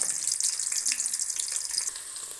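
Onions frying in a pan for Tamil-style mutton curry give a steady, fairly loud hiss of bright sizzling with small crackles and faint stirring scrapes, continuous throughout with no talking.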